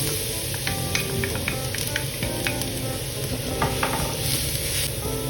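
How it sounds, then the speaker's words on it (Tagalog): Garlic fries steadily in hot oil for chicken pastil, a loud continuous sizzle with scattered crackles and pops running throughout, no talking. "At naglagay nga ako ng mantika or oil. Sinunod ko naman ang bawang."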